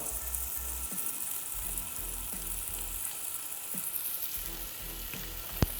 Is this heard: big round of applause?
no